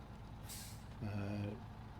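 Truck handbrake engaging with an air brake hiss in the video game SnowRunner, a short sharp burst of air followed by a low tonal rumble, with the engine idling throughout.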